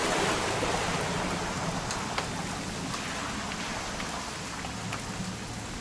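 Steady rain falls on a hunting-trip scene in the game What Remains of Edith Finch, a dense, even patter with scattered drops that continues throughout, fairly loud and with no talk.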